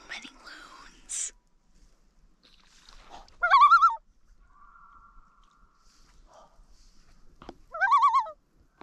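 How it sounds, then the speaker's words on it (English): Loons calling across a backcountry lake in Algonquin Park, two clear wavering tremolo bursts with a faint sustained tone between them, heard fairly close and alone with some soft breathy sounds early on. "So many loons."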